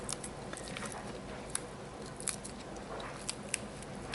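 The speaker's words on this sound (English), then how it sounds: "So here's some more New Zealand spinach. Cut some of that off." New Zealand spinach tops are snipped off close by, giving a string of small crisp cuts and clicks over a soft, steady background.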